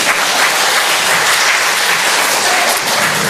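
A church congregation claps steadily, a dense, even wash of applause that holds at full strength throughout.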